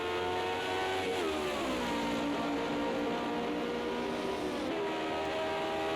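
A Lotus 49 race car engine howls continuously on the Nordschleife in a racing video game, a loud, steady high-revving scream with brief dips and climbs as gears shift, heard close and alone.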